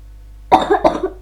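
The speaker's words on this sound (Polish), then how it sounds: "mam kaszel" A woman gives two quick coughs in a row, close to the microphone, against a quiet background.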